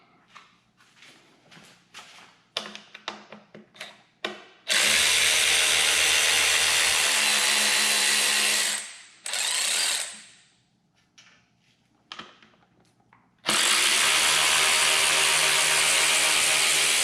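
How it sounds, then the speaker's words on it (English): A ratchet with a 10mm socket works the nuts on a Stihl leaf blower, giving a run of sharp, close clicks, then long stretches of loud sustained mechanical noise with brief quiet gaps. "it takes a 10mm socket for these two nuts"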